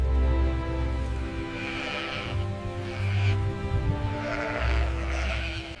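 Sheep bleat on a wool ranch as they are gathered toward the gate before shearing. Several drawn-out, wavering calls come at fairly close range over a low, steady background, with no talking.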